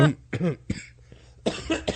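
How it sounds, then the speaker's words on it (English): A person coughs several times in quick bursts, close and dry, with short pauses between. "Couldn't hit the cough button quick enough."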